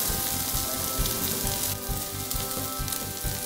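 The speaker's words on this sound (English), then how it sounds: "So after frying our onion and capsicum for 1 minute" Steady, close sizzling of onions and capsicum frying in hot ghee, a dense crackle with soft rhythmic stirring thumps underneath.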